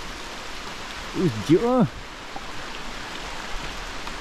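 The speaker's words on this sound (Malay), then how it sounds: "Rupanya hujan tak berhenti." Steady rain falls in a continuous broadband hiss around a riverside hut during flood season, while a person speaks briefly over it.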